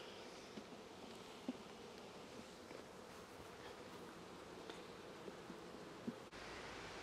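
A dense, steady buzz of many honeybees at a hive fills the air, close and continuous, with a few soft knocks and rustles on top.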